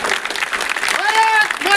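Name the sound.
applause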